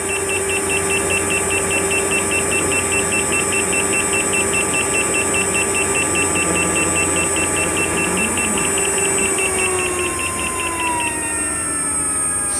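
Rapid, evenly spaced warning beeps from an electric vehicle motor controller running above 80% duty cycle, repeating steadily over a continuous whine and road noise.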